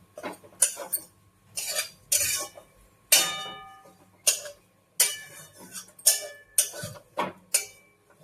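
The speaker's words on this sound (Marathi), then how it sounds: "आता आपण जे किसलेलं खोबरं होतं ना ते भाजून घेऊया" Grated coconut being roasted in a pan for dink ladoo, with a spatula scraping and clinking against the metal in a steady series of sharp, separate strokes, close up and fairly quiet, with no talking.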